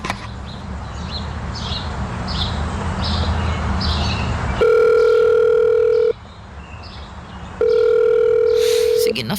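A phone call's ringback tone plays in two long, loud steady beeps with a pause between them, after chirping birds and outdoor background noise at the start.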